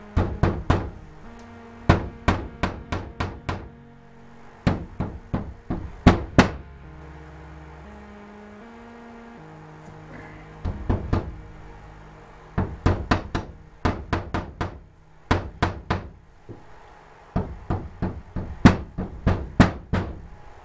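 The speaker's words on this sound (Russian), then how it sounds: "Гвоздь вбиваем наполовину и загибаем его." A hammer drives nails halfway into wood and bends them over to fix fabric on a veranda wall, in sharp rapid bursts of knocks separated by short pauses, close and loud with no talking.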